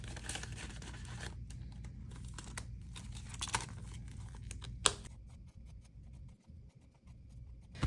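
Paper crinkling and rustling up close as cash is stuffed into a paper envelope, soft and continuous, with a sharper crackle midway and quieter handling toward the end.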